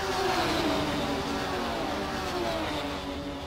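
A group of three Porsche GT3 Cup race cars drive at the Brno circuit, a fairly faint, continuous engine drone that holds steady without any talking.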